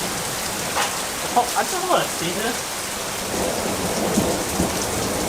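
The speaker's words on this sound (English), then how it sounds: "It is raining, isn't it?" Steady rain pours down with a low rumble of thunder, loud and close, while a person speaks briefly over the downpour.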